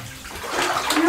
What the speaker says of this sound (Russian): давай, котенок, набирать воду и будем купаться